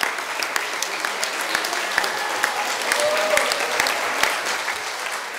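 Steady, dense applause from an audience at an afternoon session of the DSP Umbria congress fills the room, with many hands clapping at an even level throughout.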